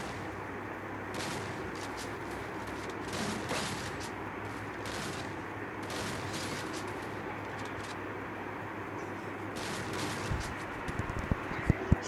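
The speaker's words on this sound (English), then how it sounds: "I missed both the shots." Gunfire in a shooting video game match, heard as repeated short bursts of shots spread across a steady, noisy game background, with a few sharp clicks at the end.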